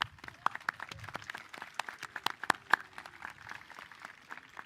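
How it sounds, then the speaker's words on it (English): An audience at a commencement ceremony applauds with steady, moderate clapping that holds throughout, with a few sharper claps standing out. "Round of applause"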